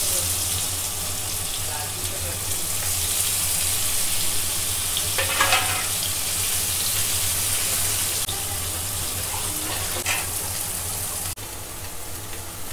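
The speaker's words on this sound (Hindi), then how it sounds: "इसमें थोड़ा मैदा डाली हूँ और इसे मैं हल्का फ्राई करूँगी।" Paneer coated with maida fries lightly in a pan with a steady, moderate sizzle and an occasional stir, over a low background hum.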